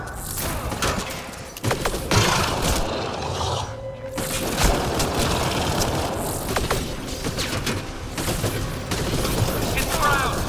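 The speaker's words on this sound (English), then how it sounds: "Heavy fire." Heavy sustained gunfire in Mass Effect Andromeda, a dense, loud fusillade of overlapping shots and impacts that barely lets up, with a short pause before the barrage resumes, and voices mixed in under the din.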